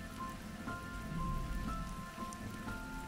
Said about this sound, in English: the rain kind of really kicked in.